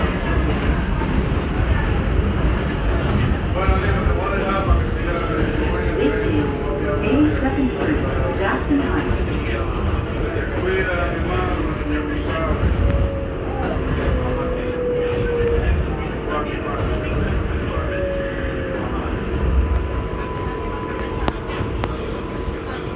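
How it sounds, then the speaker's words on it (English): A 7 local subway train in New York runs toward Flushing Main Street, giving a steady loud rumble and rattle of the moving car with squealing wheel tones throughout, while announcements and people talk over it. "rushing Main Street bound 7 local train"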